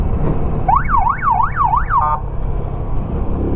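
A police siren wails in a quick rising-and-falling pattern for about a second and a half, close by on a street, over a steady rumble of traffic and engine noise.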